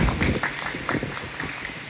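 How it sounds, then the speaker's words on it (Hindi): A crowd at a press gathering applauds in a dense, continuous wash of clapping throughout. "तालियां।"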